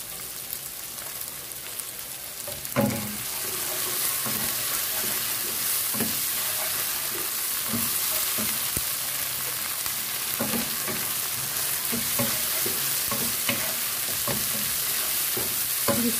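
Chayote stir-fries in a pan with oyster sauce, making a continuous close sizzle broken by repeated scraping and stirring knocks.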